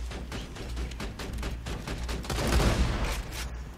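Rapid bursts of turret gunfire in the video game Borderlands 2, in the Caustic Caverns, rattle on continuously and loudly, swelling toward the end over a low rumbling game backdrop.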